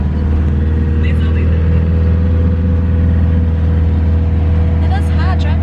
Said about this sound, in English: It is hard driving on the sand